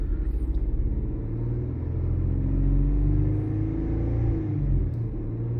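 A Ford/Lincoln MKX engine with a lean/rich fault revs close by, its low rumble wavering and surging as the throttle fails to hold steady, with no talk over it.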